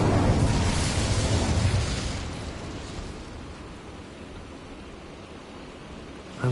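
Incendio fire spell cast in Hogwarts Legacy: a loud rushing burst of flame that swells briefly, then fades into a softer, noisy hiss, ending with a small pop.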